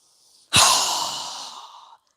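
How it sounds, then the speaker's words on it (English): A single strong, forceful exhale during a yoga breathing exercise, a loud breathy rush that starts abruptly and tapers off over about a second and a half, heard alone and close. "Strong exhale"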